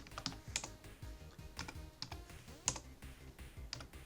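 Computer keyboard keys pressed during a two-player retro tank combat game, with sharp irregular clicks and taps scattered over a low background hum, no speech.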